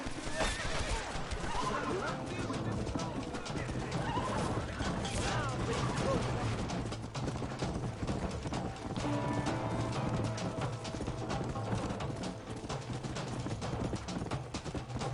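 Horses whinny and snort over a steady clatter of hooves and busy background noise, loud and dense throughout, with voices mixed in, in the video game Red Dead Redemption.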